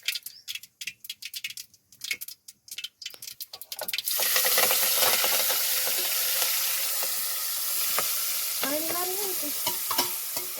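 Stirring clatter gives way to a loud, steady sizzle of spices hitting hot oil, crackling continuously with brief metallic scrapes near the end.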